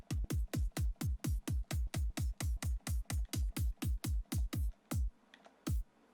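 Synthesized kick drum samples play back one after another, about twenty punchy hits with sub-bass tails sweeping down low, a steady fast run with a short pause and two final thumps.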